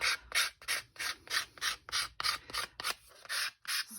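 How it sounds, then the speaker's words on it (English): Cardstock card edges with a white core being sanded down by hand, a steady run of about a dozen short rasping strokes in even rhythm, close and fairly loud, no talking. "sand them down a little bit."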